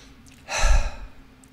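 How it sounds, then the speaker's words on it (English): A single deep breath drawn in and let out while relaxing over a Monday New York Times crossword puzzle, close and soft, rising then fading within about a second. "let's take a nice deep breath"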